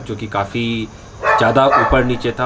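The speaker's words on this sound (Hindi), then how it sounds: "मतलब मेरे सोसाइटी के नीचे में कुत्ते भौंक रहे हैं।" Dogs bark repeatedly below a housing society, the short yapping calls clustered in bursts and heard under someone talking close by.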